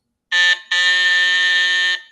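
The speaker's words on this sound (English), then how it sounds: "the apartment buzzer buzzed." A loud, harsh electronic apartment door buzzer sounds twice: a short burst, a brief gap, then a longer sustained buzz lasting over a second.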